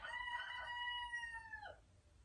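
A single rooster crows, a drawn-out cock-a-doodle-doo that falls off at the end, moderately distant.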